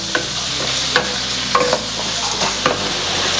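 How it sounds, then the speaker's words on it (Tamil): Tomatoes and onions sauté with a steady sizzle in a pan while a spoon stirs them, scraping in irregular knocks at close range, with no talking. "அதை இதில் சேர்த்து நல்லா வதக்கிக்கலாம்."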